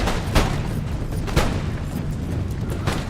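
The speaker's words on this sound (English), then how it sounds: "Firing some shots into my flank here, taking out a lot of troops in this line infantry unit" Musket volleys from line infantry in Empire Total War, a dense crackling battle din with two sharper booming volleys standing out, steady and fairly loud throughout.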